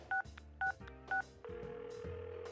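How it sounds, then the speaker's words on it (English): Phone number being dialed in the Persona 4 Arena Ultimax video game: three short, evenly spaced keypad beeps followed by a sustained ringing or dial tone, clean and electronic with no voices. "I dial Yosuke-kun's number."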